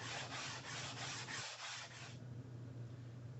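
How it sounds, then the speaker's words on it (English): Steady rhythmic rasping of sandpaper rubbed back and forth over wood in a museum art preparation workshop, close and fairly loud, with regular strokes that stop partway through, leaving a low hum. "and more sanding."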